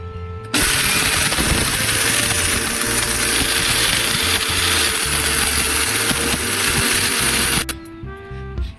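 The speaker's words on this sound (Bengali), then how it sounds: "সবগুলো আমি মিক্সির জারের মধ্যে নিয়ে নিয়েছি এবারে গুঁড়ো করে নেব" An electric mixer grinder powders dried mango slices in its jar, giving one loud, continuous whirring roar with gritty rattling that starts abruptly, holds steady for about seven seconds and then cuts off as the motor winds down.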